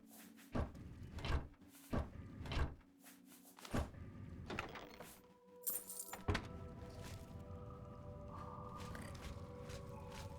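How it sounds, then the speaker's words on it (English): A wooden door to a dining hall in The Elder Scrolls IV: Oblivion, heard as a series of sharp knocks and thuds, then a creak and a sustained tonal swell that fades into a low ambient hum. "Wooden door to dining hall."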